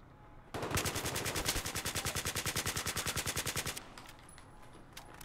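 A Saiga fires in Battlefield 3, unleashing a fast, evenly paced string of about thirty loud shots over three seconds, then stopping abruptly into quiet ambience.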